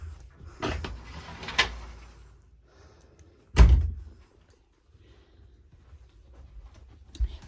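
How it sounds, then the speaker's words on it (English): Mirrored closet doors in a 2021 Crusader 395BHL fifth wheel travel trailer opening, a few soft rolling scrapes and one sharp thump as a door hits its stop, with quiet gaps in between. "And the mirrored doors do open as well."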